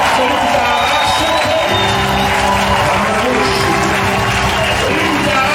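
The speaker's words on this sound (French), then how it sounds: "Il ne faut pas applaudir, il faut acclamer Jésus." A church congregation at a Sunday worship service cheering and clapping to acclaim Jesus, a dense, steady crowd roar with a sung or spoken voice carrying over it.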